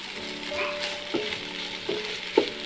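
Carrot halwa with dry fruits being stirred in a pan, a spoon scraping and clinking against the metal in a few irregular strokes over a soft, steady sizzle.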